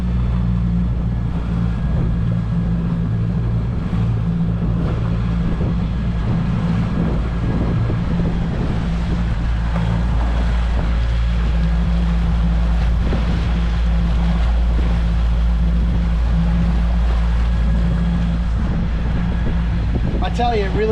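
A brand-new Suzuki 90hp outboard engine drives a boat across flat calm water during break-in, a steady, loud low drone running throughout with wind buffeting the microphone.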